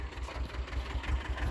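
A tractor engine idles nearby on a farm while silage is being filled, a low, steady rhythmic chugging with no voices.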